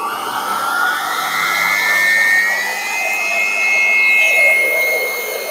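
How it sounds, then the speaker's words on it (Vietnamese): A Toptool six-speed electric dust blower with a copper-wound motor runs steadily with a high whining whir that rises slightly in pitch as the speed is adjusted, loud and close, with no talking over it. "Bây giờ em sẽ test thử cái tiếng động cơ để cho các bác cùng nghe này."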